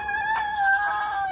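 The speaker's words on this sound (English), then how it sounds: "Look at all those chickens." A chicken on a farm gives a brief, clear crow or drawn-out cluck, close and fairly loud, with no voices.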